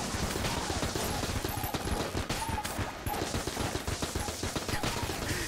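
Continuous automatic AK assault rifle fire in the game Enter the Gungeon, dense and loud, blended with game effects and mechanical clatter throughout.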